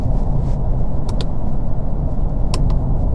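Ford car cruising at about 55 mph, a steady close interior road rumble and tyre roar with a few faint clicks, no talking.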